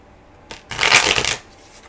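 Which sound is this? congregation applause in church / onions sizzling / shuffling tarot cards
shuffling tarot cards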